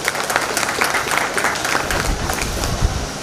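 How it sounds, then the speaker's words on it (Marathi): An audience applauds at an annual day function, with a steady, dense patter of many hands clapping throughout that sounds moderately near and has no voices over it. "मला वाटतं टाळ्या झाला पाहिजे"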